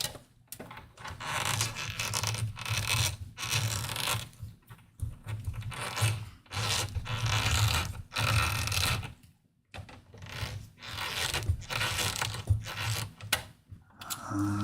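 A screwdriver works at a screw on an Ecto 1 scale model, making bursts of close, dry clicking and scraping that come in uneven runs, broken by short pauses, with no voices.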